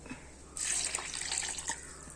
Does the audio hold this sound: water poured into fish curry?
yes